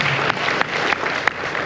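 Steady, dense round of applause from a conference audience at the Sheraton Waikiki for a panel, loud and close, with a few sharper claps standing out.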